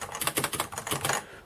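Typing on a Cooler Master computer keyboard: a fast, continuous run of close, crisp key clicks in an irregular rhythm at moderate level, with no talk.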